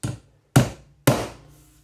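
A hammer drives a nail into timber in three evenly spaced, solid blows, each a sharp close impact with a quick decay, and quiet between strikes.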